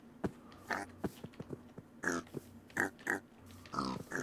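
Pig grunting and oinking in the video game TerraFirmaCraft, a series of short close grunts and squeals in irregular bursts, fairly quiet overall.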